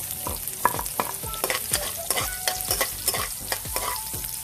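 Garlic for pork adobo sautéing in a hot pan, loud close sizzling with a quick rhythm of spatula scrapes and stirring strokes across the pan, no talking.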